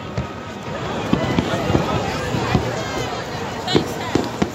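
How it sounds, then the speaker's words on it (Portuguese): New Year's Eve fireworks pop and thud at Icaraí beach in Niterói, heard as repeated distant bangs over a dense crowd hubbub with people talking nearby. "Muitos fogos de artifício também."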